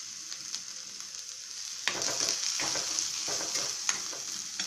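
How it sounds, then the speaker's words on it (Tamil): Four garlic cloves sauté in oil in a pan, a soft hiss turning into a livelier sizzle with crackles as they are stirred, close and steady, with no voices. "நாலு பூண்டு பற்கள் போட்டு வதக்கணும்."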